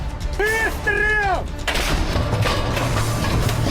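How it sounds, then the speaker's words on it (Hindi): Dense, loud gunfire and explosive booms from the Russia–Ukraine war fill the scene, with a rising harmonic whine at the start before a continuous roar of blasts and rumbling. "कदम कदम पर धमाके हो रहे हैं।"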